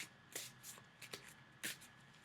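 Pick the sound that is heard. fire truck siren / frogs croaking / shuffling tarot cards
shuffling tarot cards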